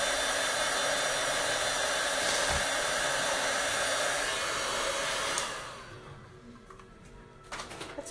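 A heat tool blows a loud, steady whooshing roar while drying Speedball ink on a chalk transfer, then cuts off, leaving faint room noise and a few small clatters.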